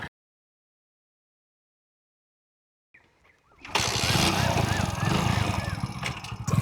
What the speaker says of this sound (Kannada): ಈ ಗಾಡಿ ಕಿಕ್ಕಲ್ಲಿ ಹೋದೆ ಮಚ್ಚ, ಸೆಲ್ಫ್ ಸ್ಟಾರ್ಟ್ ಆಗಲಿಲ್ಲ